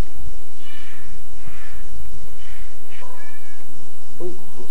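A cat in a Minecraft-style block-building game meows several times in short, drawn-out calls over a steady background hum, with no talking.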